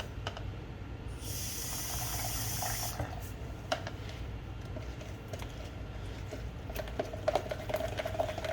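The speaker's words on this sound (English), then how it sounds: "I need to add just a little bit more water." Water poured into a fruit fly culture medium, a soft, steady trickle and patter close by for several seconds, with a brighter hiss partway through and faint handling clicks near the end.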